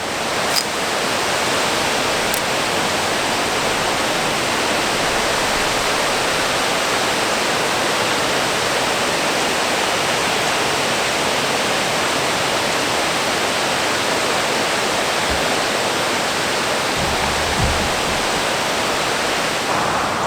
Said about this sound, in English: There's a super cool waterfall up ahead.